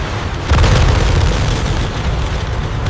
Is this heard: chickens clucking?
no